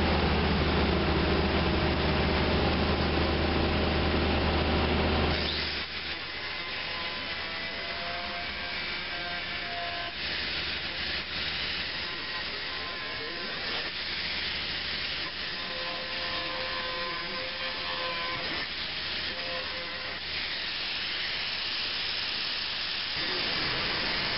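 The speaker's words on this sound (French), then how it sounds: "Je vais meuler ma reprise" An angle grinder works over a welded repair on a ceiling, starting with a loud, steady whine for about five seconds, then continuing in a rougher, scraping, hissing grind that varies as the disc bites the metal.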